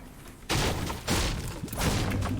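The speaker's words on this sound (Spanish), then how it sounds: "ya te escucho disparo" Gunfire in the Fortnite video game, three loud broadband bursts in quick succession, each sustained briefly and close, over low game background noise.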